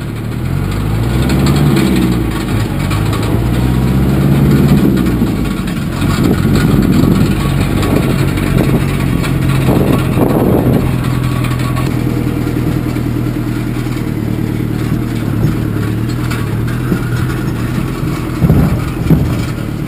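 A tractor engine runs steadily as it rolls downhill on a construction site with a possible brake fault, its low mid-pitched drone and faint clatter holding nearly constant and close throughout.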